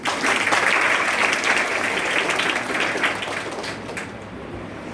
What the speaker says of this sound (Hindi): इनके लिए आप सब लोग एक बार ताली बजाइए